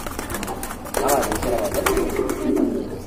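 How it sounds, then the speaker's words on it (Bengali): Caged pigeons coo in soft repeated low throbs with flutters and rustles of movement, close by, while people talk over them throughout. "কবুতর সুস্থ ভাই ছটফট করলে এটা বুঝা যায় কবুতর ঠিক আছে"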